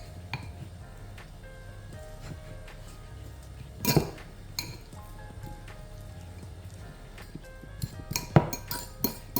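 A fork works butter with salt, pepper and garlic in a dish, making soft scattered clinks and squishy scrapes, with a couple of sharper taps against the dish near the end.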